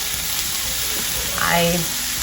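Hash brown potatoes frying in canola oil in an electric skillet set at 350, a steady loud hiss of sizzling oil close up, with a brief higher scrape or squeal near the middle.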